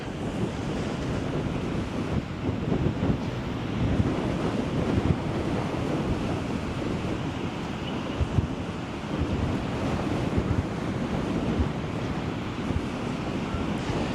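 Heavy surf and gusting wind on a Florida beach on a whitecap day, a loud continuous roar of breaking waves with wind buffeting the microphone and no voices.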